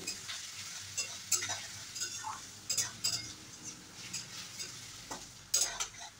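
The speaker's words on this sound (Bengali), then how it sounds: "পেঁয়াজটা হালকা লাল করে ভেজে নেব। যতক্ষণ না এর মধ্যে একটা কালার আসছে নেড়ে চেড়ে নিতে হবে।" Chopped onions fry over a medium-low gas flame while a utensil stirs and scrapes the pan, soft sizzling under repeated clinks and scraping strokes, with no talking.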